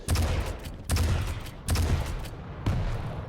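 Rapid bursts of weapon fire from a lightning gun and rockets in an arena shooter match, four loud close blasts arriving in quick succession with no talking over them.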